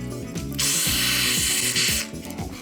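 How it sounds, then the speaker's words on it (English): Spray-and-stay gel lubricant hisses from an aerosol can in a steady, loud burst lasting about a second and a half, with a rhythmic mechanical hum running underneath. "gonna try some of this spray and stay gel lubricant because that can go into all the nooks and crannies"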